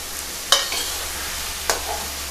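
Soybean curry with besan being stirred in a cooking pan, two distinct scraping strokes of the spoon against the pan over a steady low sizzle.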